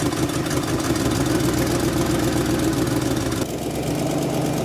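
An old V8 Mustang engine idling roughly at close range, a loud, continuous uneven rumble with a slight drop in level near the end.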